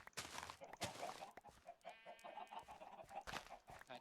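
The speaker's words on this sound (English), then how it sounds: "That chicken's gonna follow me around." A Minecraft chicken clucks repeatedly in short bursts, fairly close and clear, with game sounds mixed in and no talking.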